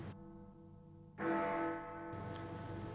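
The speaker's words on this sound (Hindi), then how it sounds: "किसी घंटी की आवाज बाहरी श्रवण नलिका से दाखिल होती है" A bell rings out in a sustained, resonant tone, a strong struck note swelling midway and ringing on with a steady hum of overtones; loud and close, with no talk.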